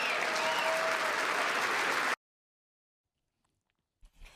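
An audience at a speech claps in a dense, loud burst of applause for about two seconds, then it cuts abruptly to near silence with a faint stir at the end.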